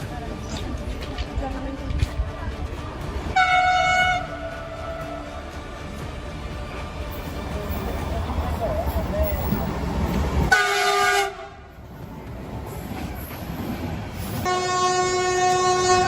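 A passing train sounds its horn in several long, steady blasts over the loud, continuous rumble of the railcars, with a brief lull near the end before one more horn blast.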